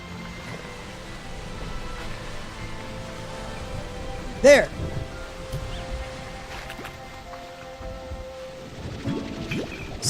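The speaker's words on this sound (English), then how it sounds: "There's a lightning strike nearby." A sharp lightning strike cracks once mid-way through a Slime Rancher 2 thunderstorm, over a constant soft patter of rain and rustling, while a voice talks and exclaims throughout.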